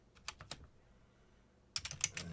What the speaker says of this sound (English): So basically you want to type in system control